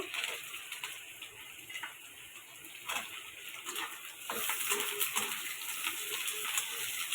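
Sliced potatoes hit hot oil with chopped onion and black cumin for masala fry aloo, giving a steady crackling sizzle that swells louder about halfway through and stays busy to the end.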